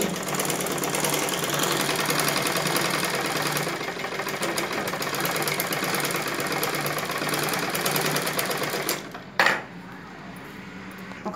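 A sewing machine stitching a prince cut blouse runs continuously in a fast, even mechanical rattle, close and steady, then stops abruptly near the end with a short clunk.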